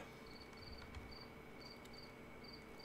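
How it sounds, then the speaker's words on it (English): Crickets chirp outdoors through an open window in repeated short high trills at a steady pulse, faint and continuous over a low background hum. "Hearing crickets."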